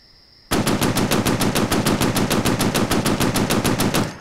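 Rapid machine gun fire from a gun emplacement in the 2011 Xbox 360 shooter Breach starts abruptly and rattles on in a fast, steady stream of loud, close shots for about four seconds.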